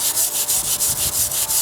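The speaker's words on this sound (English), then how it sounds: "the multi-tool thing is not going to get down in the crevices like this wire brush does" A wire brush scrubbing hard and fast over wooden deck stairs, a close, dense raspy scratching in quick repeated strokes with no pause.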